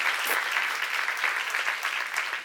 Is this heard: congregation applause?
yes